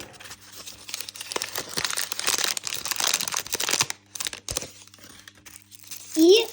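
Crinkling, rustling plastic packet from a LOL Surprise doll being handled and pulled open, a steady crackly texture throughout, with a brief voice at the end.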